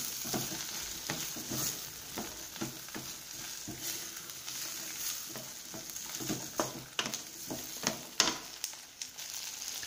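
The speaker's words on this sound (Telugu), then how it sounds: "ఇప్పుడు గోరుచిక్కుడు ముక్కలు వేసి కొంచెం సేపు ఒక 1 మినిట్ ఫ్రై చేసుకుందాం." Cluster bean pieces frying in a pan, a soft continuous sizzle broken by irregular clicks and scrapes of a spatula stirring them, moderately quiet and close.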